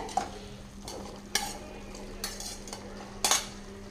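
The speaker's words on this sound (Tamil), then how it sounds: "நல்லா மசாலா வதங்கி எண்ணெயெல்லாம் நல்லா பிரிஞ்சு வந்திருக்குதுங்க இந்த டைமில் வந்து நம்ம எடுத்து வச்சுருக்கிற சுண்டல் வந்து சேர்த்திக்கலாங்க" Masala sizzling in oil as boiled chickpeas are stirred into the pan, with a steady low fry and several sharp scrapes and clinks of a spoon against the pan, close and moderately loud.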